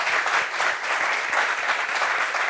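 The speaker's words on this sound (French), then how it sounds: "Applaudissements pour lui, s'il vous plaît." A studio audience on a French-language talk show claps steadily to welcome a guest, a full, even wash of applause with no pause and no talking.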